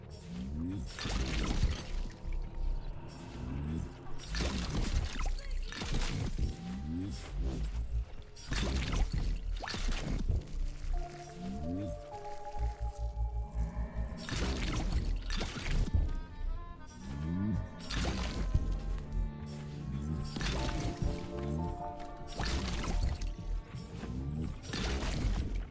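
Atomic Heart video game sounds of collecting ooze from bodies, a busy stream of squelchy, liquid pours and crashing hits repeating in quick bursts over about 25 seconds, with faint talk mixed in.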